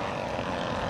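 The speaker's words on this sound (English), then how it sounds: "B-24 in for a landing, setting up." A B-24 bomber, a four-engine propeller warplane, comes in to land at an air show, its steady engine drone loud and continuous throughout without pause.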